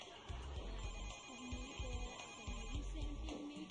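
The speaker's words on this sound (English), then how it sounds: "Christina, Senor Vargas is on the phone for you." A telephone rings with an incoming call, giving a steady electronic ringtone that repeats in even pulses, moderately faint, against a low hum of room noise.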